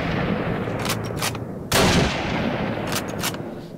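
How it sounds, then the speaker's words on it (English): Sniper rifle in a Minecraft WW2 gun mod fires a handful of sharp synthetic gunshots, close and loud, spaced irregularly with short gaps and one heavier blast midway, no voices. "And this is the sniper version."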